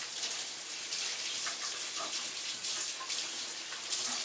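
Steady tap water runs while celery stalks are rinsed under it at a kitchen sink, a constant close splashing hiss with small shifts as the stalks move through the stream, and no one talks.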